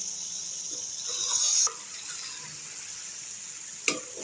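Green chillies go into chicken frying in oil for Hyderabadi biryani, giving a steady hissing sizzle that swells briefly, then settles into an even fry with a single sharp clink near the end.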